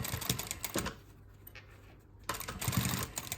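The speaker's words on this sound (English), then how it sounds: "I will just go and start sewing." A sewing machine stitches a quilted makeup bag in quick mechanical bursts, pausing briefly in the middle before running again at close range.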